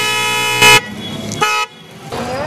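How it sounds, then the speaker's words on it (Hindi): A loud, close Mercedes-style horn fitted to a modified TVS Raider 125 motorcycle sounds in a few sustained blasts, bright and brassy with rich overtones, separated by short gaps. "इसके अलावा इसमें मर्सिडीज स्टाइल वाले हॉर्न इंस्टॉल किए गए हैं"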